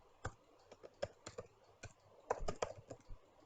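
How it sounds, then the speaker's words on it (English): Quiet, close typing on a computer keyboard: a short burst of irregular key clicks, a few quick double taps near the end, with no talk. "Rather than type it in again, just type it like that."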